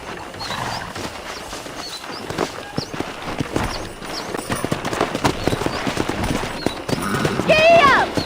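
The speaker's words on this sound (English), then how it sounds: "Let's see if we can't wrangle some horses." Horse hooves clip-clop steadily over ground in the Western video game Red Dead Redemption, with a rope-wrangling scene, voices talking over the hoofbeats and a horse whinnying loudly near the end.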